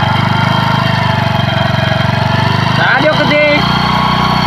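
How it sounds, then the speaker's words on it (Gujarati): A motorcycle engine runs with a steady close pulsing thrum while a learner rider eases out the clutch, the tone wavering and stuttering briefly near the end, with a voice talking over it. "આસ્તે આસ્તે ક્લચ છોડો આસ્તે આસ્તે રેસ આલો"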